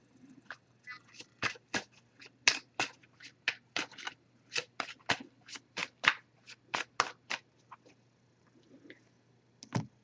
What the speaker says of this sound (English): I did pre-shuffle this deck, but I'll give it a few more shuffles now.